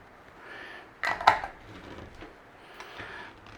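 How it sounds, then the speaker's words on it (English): Lid set onto a glass jar of homemade sauerkraut, a couple of close, quiet clinks and clatters around the middle, with soft handling noise before and after and no talking. "Give the jar top a wipe, and then we'll bob a lid on."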